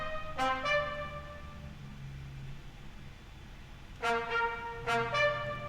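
A synth trumpet layered with two trombones, panned left and right, in an Ableton Live arrangement: a few held brassy notes and chords sounding alone, with a quieter gap between phrases.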